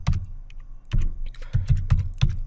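Code being typed on a computer keyboard: close, crisp key clicks in uneven bursts with short pauses between, loud and clear with no talking.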